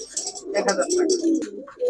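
Pigeons at a pigeon shop give short, throaty coos close by, a few quick calls overlapping within a moment.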